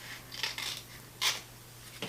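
Scissors snipping paper while making a mini zine: a few quiet, crisp cuts with short pauses between, close and soft, no talk.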